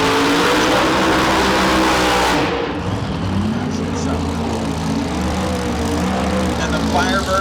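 Drag racing cars, including a Pontiac Firebird and a 1964 Pontiac GTO, roar loudly with engine rumble and revving throughout, while a commentator talks over the noise.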